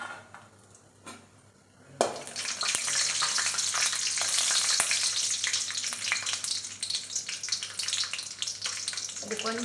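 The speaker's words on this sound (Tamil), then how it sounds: "நெய் சூடானதும் முந்திரி போட்டுக்கலாம்." Cashews drop into hot ghee and break into a loud, dense, continuous sizzle that stays steady and close for several seconds, with no talk over it.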